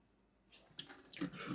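Water starts running from a reverse osmosis system faucet installed under a kitchen sink, a short, quiet splash that begins after a brief near-silence and grows a little fuller over about a second.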